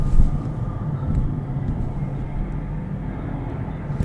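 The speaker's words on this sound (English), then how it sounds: "that's a really loud plane" A loud airplane passes overhead, a deep, steady low rumble that swells slightly and holds throughout, with no voice over it.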